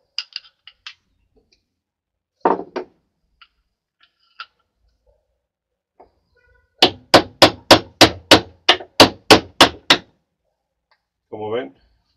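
Hammer blows drive a wooden handle onto a tool head: a few scattered knocks, then a rapid run of about ten sharp, loud strikes in steady rhythm, close up in a quiet workshop, with a brief voice after.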